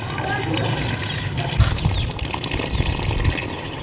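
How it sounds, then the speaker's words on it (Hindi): Clean water trickles and pours onto soaked black chickpeas and wheat in a large pot, making a continuous splashing under a person speaking. "तो अभी साफ पानी डालेंगे।"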